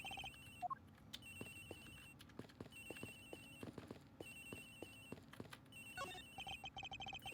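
A telephone rings repeatedly in the Ace Attorney Investigations video game, a trilling electronic bell in regular bursts over soft background music, no voices.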